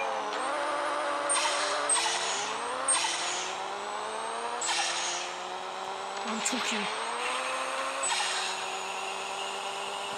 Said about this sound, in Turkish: Motorun sesi değişmiş.